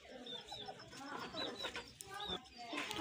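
Several broiler chickens cluck and chirp close by in a short, busy burst, with a faint voice in the background.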